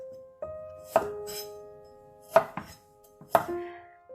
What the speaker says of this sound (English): Then cut asparagus into 2 inches diagonal pieces.